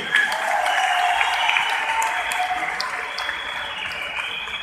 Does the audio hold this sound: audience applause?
yes